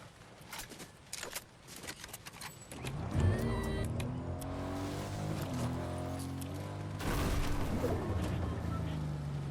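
Car sounds in the video game Fortnite, with a burst of clicks and thumps as the player climbs out, then a steady engine-like drone with shifting tones and a second loud rise near the end.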